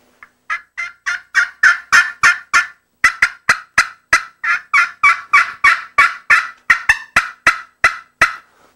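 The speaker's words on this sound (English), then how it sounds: "I like to use a slate. It's real high pitched too, and it's got a lot of realism in the woods" Yelps and sharp cuts on a high-pitched slate turkey call, a steady run of about two dozen clear, loud notes in quick rhythm with a brief pause near the start, close up and alone with no talk.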